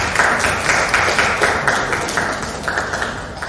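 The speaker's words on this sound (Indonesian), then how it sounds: "Tepuk tangan Ibu Yusi." Applause for a guest speaker, Ibu Yusi, at a teachers' module dissemination session at a senior high school in Srengat: steady, dense clapping from a roomful of people, fairly close and continuous throughout, with no talking over it.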